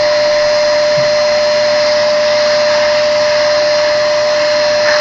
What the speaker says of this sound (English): And we again vacuum about a square foot.